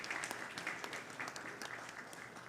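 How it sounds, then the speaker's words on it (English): Audience at a Krishna Mandir Sunday morning temple service clapping together, a dense, steady patter of many hands at moderate distance, fairly quiet and fading slightly toward the end. "Let's give all of them a round of applause,"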